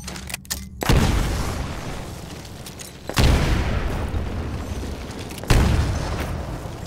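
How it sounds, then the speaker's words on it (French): Three heavy grenade blasts in the Titanfall video game, each a sudden loud boom trailing into a long rumbling decay, spaced a couple of seconds apart with no talking. "Lancez une grenade à travers chaque fenêtre."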